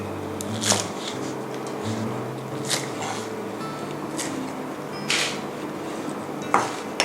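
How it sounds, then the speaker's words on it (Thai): Sharp knife strokes against a cutting board, trimming off roots and cutting vegetables into two-inch lengths for a Thai glass noodle salad, a handful of irregular crisp chops amid soft kitchen handling noise. "อันนี้เราจะ หั่นส่วนที่เป็นรากนะคะ ทิ้งไปค่ะ หั่นท่อนประมาณ 2 นิ้วนะคะ"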